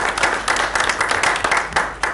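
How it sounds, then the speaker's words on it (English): Steady applause from an audience at a school board meeting welcoming spring, dense continuous clapping throughout with no pauses. "I think that deserves a round of applause to welcome in spring"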